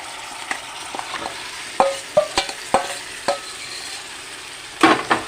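Marinated chicken pieces for a Bengali-style chicken curry go into a hot pan, giving a steady low sizzle broken by a series of close, sharp spatters and clinks as the meat is stirred and fried.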